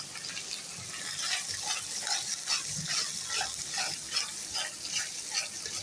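Mustard paste and cumin paste fry in a pan for mustard hilsa, a continuous close sizzle broken by steady scraping strokes of stirring.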